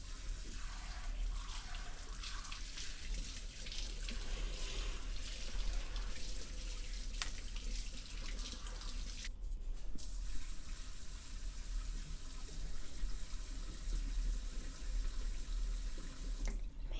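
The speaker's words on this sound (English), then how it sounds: "So I'm just going to turn the tap on now, okay?" A water tap runs steadily and close while hair is being wetted over a sink, a continuous loud rushing with small shifts in the flow and no talking.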